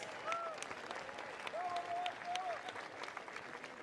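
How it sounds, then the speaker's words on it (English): A tennis match crowd claps steadily for several seconds, dense and even applause with no voices standing out. "Give him a round of applause."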